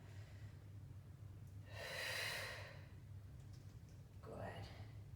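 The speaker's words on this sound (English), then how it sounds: "Breath in and out." A Pilates exercise with one sharp, breathy exhale through the nose, a brief pause, then a second shorter exhale, close and quiet, alone with no talking.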